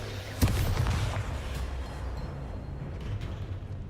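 An Expulso explosion spell goes off in Hogwarts Legacy: a single sharp boom early on, then a rumbling decay and low residual crackle for a few seconds.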